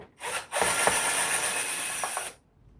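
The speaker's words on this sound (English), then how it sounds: "Let me take these screws out the back." Screws are backed out of the rear housing of a vacuum cleaner during a repair, a close whirring drive sound lasting about two seconds after a short initial burst, with faint clicks mixed in.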